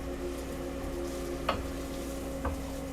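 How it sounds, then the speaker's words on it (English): Rice toasts in a pan for risotto alla Milanese, giving a soft, steady sizzle with a couple of brief stirring scrapes and no talking. "So, toast that rice up. Right? Get over here. Get it stirring."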